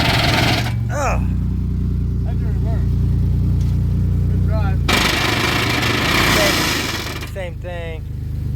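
Camaro with a broken rear differential, its transmission spinning without catching: loud engine revving in surges with grinding, clattering drivetrain noise and bursts of nearby voices.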